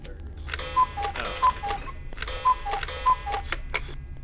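A clock ticks in the horror video game MADiSON, with a steady, close tick-tock rhythm and a few brighter, louder ticks at regular intervals. No one speaks.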